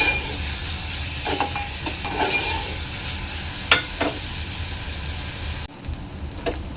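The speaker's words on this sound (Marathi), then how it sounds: "टोमॅटो चांगला तेलामध्ये परतून घ्यायचं आहे" Tomato sautéing in oil in a pan for a Marathi mahua fruit bhaji, giving a steady close sizzle with occasional stirring scrapes and a sharp clink near the end.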